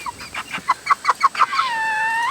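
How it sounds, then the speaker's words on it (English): Young egg-laying pullets, including a black sex link, cluck in a quick string of about nine short clucks, then give one drawn-out, wavering call, close and clear with no other sound. "these are the egg laying pullets that I got from Rural King"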